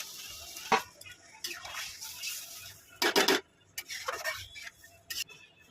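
A lid set onto a cooking pot of muri ghonto simmering on a low gas flame: a few sharp, separate metallic clanks ring out close by against a quiet background.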